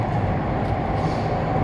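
Inside a moving underground metro train in Mumbai, a steady, close rumble of wheels and carriage noise hums on with no break and no talking.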